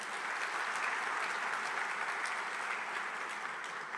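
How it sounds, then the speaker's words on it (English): Steady, moderately distant audience applause filling a hall at the KHS India Silver Jubilee inaugural ceremony, an even wash of many hands clapping without pause. "Thank you for the applause"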